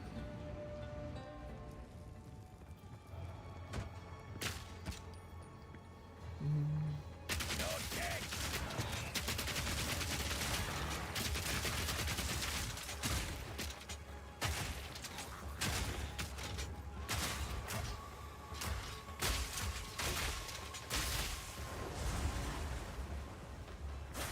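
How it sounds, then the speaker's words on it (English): Explosions in the video game Path of Exile 2, a rapid, dense barrage of crackling blasts and impacts that keeps going for many seconds after a quieter opening, with low rumbling under it. "Cool guys, don't look at explosions."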